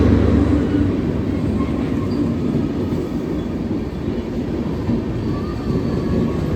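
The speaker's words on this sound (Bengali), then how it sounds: "অবশেষে আমাদের ট্রেন ঢুকলো।" A late-running Ranchi Intercity Express pulling into the platform at Ghatsila station, a loud, steady low rumble of rolling wagons that stays close and even throughout, with no talking.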